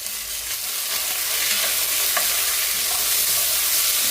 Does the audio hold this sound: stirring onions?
yes